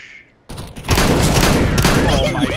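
Rapid gunfire in Counter-Strike, including shotgun buckshot, erupts after a quiet half-second and continues as a loud, dense barrage of overlapping shots, with voices talking over it.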